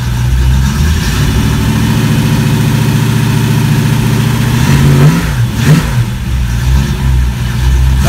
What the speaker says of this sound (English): That motor's a 30 over 283. Fools you on the stand. It sounds like a bigger motor than that